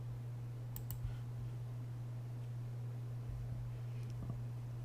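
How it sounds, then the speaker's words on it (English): A computer mouse gives a few light clicks in cutting software, small crisp taps over a steady low electrical hum in a quiet room. "So I'm going to go ahead and click Make It."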